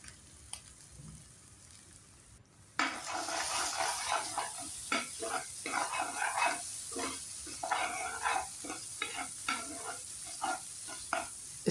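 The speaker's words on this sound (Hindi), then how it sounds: "इसके बाद हम इसमें ऐड करेंगे गार्लिक जिंजर पेस्ट और इसको भी भून लेंगे" Garlic ginger paste for green beans keema frying in a pan, starting quiet and then a bright steady sizzle with repeated scraping stirs close up, and a dog barking faintly in the background.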